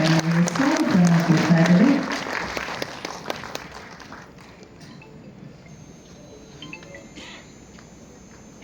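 A crowd applauds actor Shashikumar's arrival at the re-release of the Vishnuvardhan film Yajamana. Dense clapping runs under a man's close speech for the first few seconds, then thins and fades into a quieter murmur.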